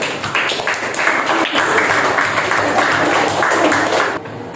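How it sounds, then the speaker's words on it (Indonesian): Students in a classroom applaud a group with a steady burst of clapping that lasts about four seconds, then stops suddenly. It sounds fairly close and busy. "Boleh tepuk tangan untuk kelompok 1."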